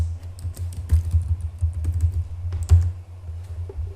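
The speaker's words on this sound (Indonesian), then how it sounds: "Ketikkan interface FA01 switch port mode akses." Switch configuration commands are typed on a computer keyboard, a close run of quick, uneven key clacks and taps with short pauses, alone and fairly loud.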